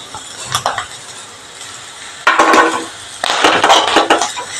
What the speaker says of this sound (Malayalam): ഇതെല്ലാം അതിന് പച്ചമണം പോണ വരെ ഇളക്കിയിട്ട് കരിയാൻ പാടില്ലാണ്ട് അങ്ങനെ ഇളക്കി കൊടുക്കണം